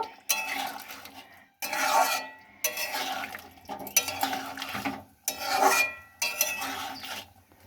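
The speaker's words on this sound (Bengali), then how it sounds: "এবার আমি আদা বাটাটা দিয়ে দিলাম আদা বাটাটা একটু নেড়ে নেব" Ginger paste being stirred in a pan while cooking pumpkin chhakka, with repeated scraping and stirring strokes in bursts separated by brief pauses, close and fairly loud, no talking.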